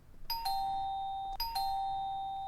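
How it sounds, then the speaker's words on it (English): A doorbell rings twice in a Christmas Carol audio play, each a two-tone ding-dong whose bright chimes hang and ring on, clear and close with no voices over it. "ring the doorbell"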